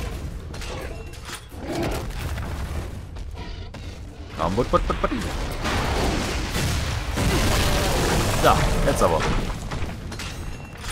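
Heavy explosions boom in the video game Shadow Warrior, with a rumbling blast midway followed by sustained roaring debris and further bangs, and a player speaks briefly over the action.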